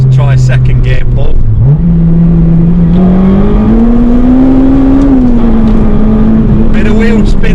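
A Honda Integra DC5 pulls hard through second gear, its engine note climbing steadily and loud close by, with a brief dip near the start as it bogs and chirps before rising again.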